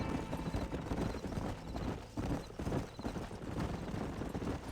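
Hooves of a herd of horses clip-clopping in the Red Dead Redemption video game, a dense, continuous patter of many hoofbeats at a steady gallop, heard at low level under a broad wash of game noise.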